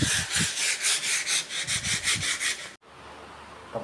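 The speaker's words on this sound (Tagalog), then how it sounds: "liliyahin mo natin siya ng liha" Wood being hand-sanded with 150-grit sandpaper before enamel painting, steady rhythmic back-and-forth rasping strokes close up, with no talking, ending abruptly in a quieter pause.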